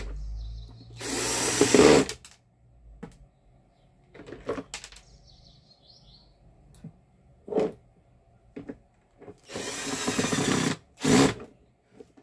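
A power screwdriver drives three screws into a Mondial Pratic 17 coffee maker in short separate whirring bursts, close and clear, with faint handling clicks between them.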